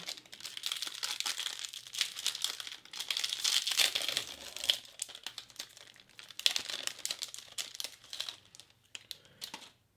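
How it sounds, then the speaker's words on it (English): Crinkling plastic wrapper of a cereal bar from a Polish military ration being opened, close and fairly quiet, with irregular crackles and rustles for several seconds. "Let's open up the cereal bar."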